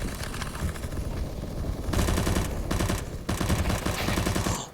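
Rapid gunfire in a first-person shooter video game, dense bursts of automatic shots that fill the whole stretch with brief gaps between volleys, loud and continuous.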